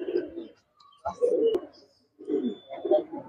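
A large male red racing pigeon coos close by in three soft, throaty phrases separated by short pauses.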